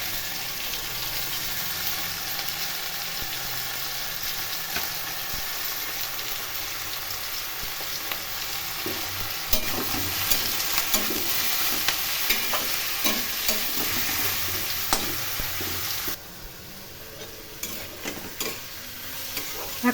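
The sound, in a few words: stir-frying ground cumin, coriander and chilli paste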